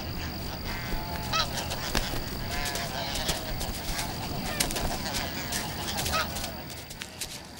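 A large flock of snow geese feeding on harvested farm fields honks continuously, many overlapping calls blending into a noisy, distant chorus.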